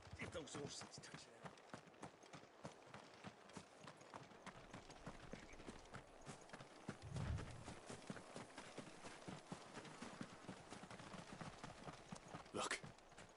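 Horses' hooves clip-clop steadily and close in a Final Fantasy XVI scene, a dense run of hoofbeats throughout with a heavier thud midway and voices talking over it.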